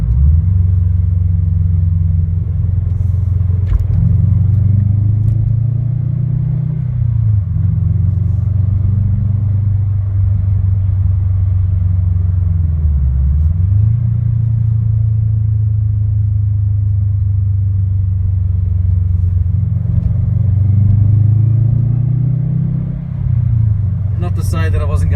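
A 2017 Subaru WRX STI with an Invidia R400 cat-back exhaust drives through suburban streets, its steady, loud low engine drone rising and dipping gently through normal acceleration for the whole stretch, with no one talking.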